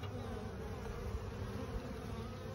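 Honeybees buzzing around a Langstroth hive, a steady faint hum of many insects close by, continuous with no speech.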